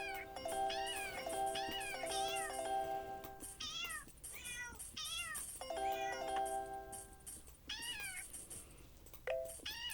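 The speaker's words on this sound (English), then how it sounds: "It's Somali Cat." A Somali cat meows repeatedly in a quiet room, with a series of clear, drawn-out meows spaced across the stretch, some short and some rising, heard alone without talk.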